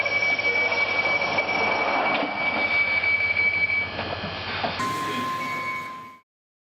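A London Underground train departs Angel station, with a steady mechanical hum, rumble and tonal whine that shifts higher near the end before cutting off. A public-address voice is heard over the platform noise.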